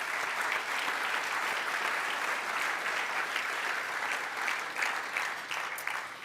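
A panel audience at a coaching event applauds a speaker, a dense, sustained burst of many hands clapping close by that holds steady for several seconds before tapering slightly.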